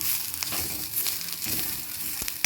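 Ginger pieces frying in hot oil in a pan for a ginger and curry leaf chutney, giving a steady close sizzle with occasional louder pops and stirring scrapes.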